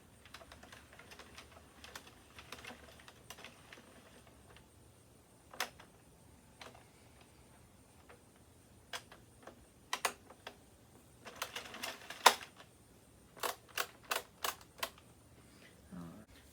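An Addi knitting machine works through rows with dry, rapid mechanical clicks and ticks, scattered at first, then in quicker, louder bursts of clatter, close by in a quiet room.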